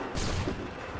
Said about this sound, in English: Wait for the signal. Fire now!